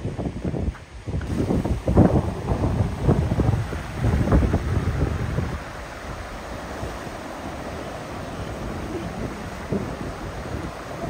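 Strong open-sea waves crash against the rocky shore of Tung Lung Chau island, loud and close with heavy bursts of surge for the first half, then a lighter, steady wash under wind.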